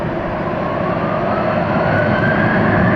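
Twin engines of a Boeing 777 airliner spool up at Atlanta Hartsfield airport, a steady broadband roar with a rising whine building over three seconds, loud and continuous with no talking.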